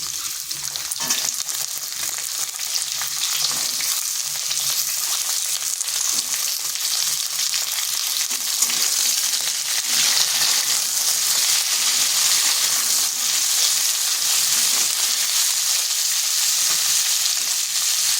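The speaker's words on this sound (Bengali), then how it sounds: "এগুলোকে তিন থেকে চার মিনিট এভাবে নেড়ে চেড়ে ভেজে নিচ্ছি" Potatoes, carrots and beans fry in a pan while being stirred, giving a steady loud hissing sizzle with occasional scraping, and no voices.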